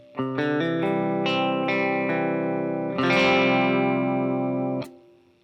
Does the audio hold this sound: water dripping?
no